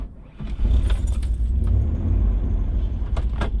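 Steady loud engine rumble from inside a moving car, with uneven low-end throbbing and occasional rattles, no voices.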